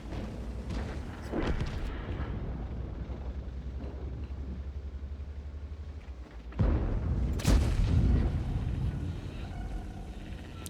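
World of Tanks artillery fire lands as a loud, close blast late in the stretch, over an earlier low engine rumble and a muffled distant boom.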